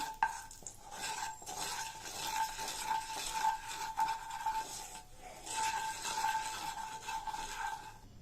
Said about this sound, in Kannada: ಇದನ್ನು 1 ನಿಮಿಷ ಲೋ ಫ್ಲೇಮಲ್ಲಿ ಇಟ್ಕೊಂಡು ಫ್ರೈ ಮಾಡ್ಕೊಳ್ಳಿ